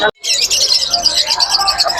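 Dense, bright chirping and twittering from many small birds together, continuous and close, like a crowd of caged birds at a bird market in Tongi.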